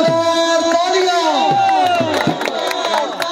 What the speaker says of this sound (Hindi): एक बार मेरे यार वाले वास्ते जोरदार तालियां